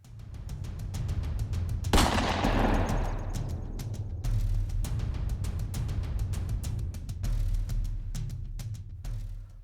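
A single loud rifle shot rings out at about two seconds, its blast decaying over the next couple of seconds, fired at a fox at around 120 yards during a night hunt with a thermal scope; low rumbling background noise continues throughout.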